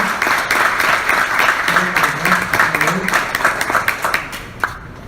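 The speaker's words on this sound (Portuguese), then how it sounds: "Vamos aplaudir aqui" Applause from an audience at a talk, a dense patter of clapping lasting several seconds with a voice speaking underneath.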